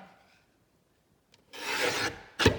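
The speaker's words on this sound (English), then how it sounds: "I'll trim the border on a page" A paper page border being trimmed for a handmade Christmas card junk journal, a close, rasping cutting stroke of about half a second followed by a shorter, sharper second cut, after near silence.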